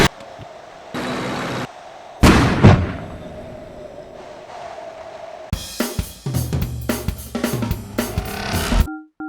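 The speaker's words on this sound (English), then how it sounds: "I'm going to turn my turret, I'm going to reload, and I'm going to fire." A toy tank cannon sound effect in a tabletop tank game booms as a burst of loud blasts and explosions, followed by a rapid string of sharp bangs.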